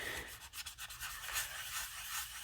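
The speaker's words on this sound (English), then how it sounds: "I took this sand foam. I don't know what grit this is, but it's extremely smooth." Sanding foam rubbed over the underside of a plastic 1:7600 Space Station K7 model gives soft, close scratchy strokes, a few short passes and then a longer continuous rub.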